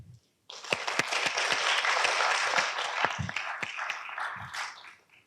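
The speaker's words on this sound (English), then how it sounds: "please give a round of applause again" Audience applause in a university auditorium at a leadership talk, a dense burst of many hands clapping that swells quickly, holds for several seconds, then fades.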